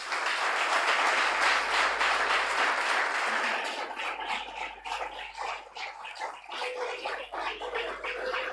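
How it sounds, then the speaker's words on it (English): An audience at a business competition zonal final applauds as contestants come on stage, with dense, steady clapping that thins into scattered, uneven claps after a few seconds. "please join me with a loud round of applause as I welcome all contestants on stage"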